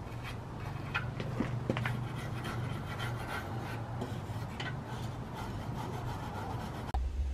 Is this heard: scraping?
yes